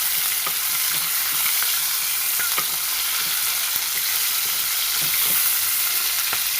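Onions frying in a pan for bagara rice, a steady close sizzle broken by occasional scraping and stirring clicks of a spoon, with no talking.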